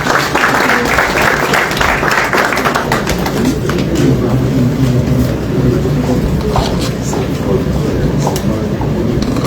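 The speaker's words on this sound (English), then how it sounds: "A round of applause" Dense, steady applause from a large audience at a World Bank policy launch event, loud and continuous throughout with no speech over it.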